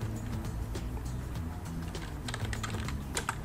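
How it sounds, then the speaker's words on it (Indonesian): Typing on a computer keyboard while working in CorelDraw, a steady run of light clicks close by with a few sharper taps near the end, over a low hum. "Kita ketik di bawahnya"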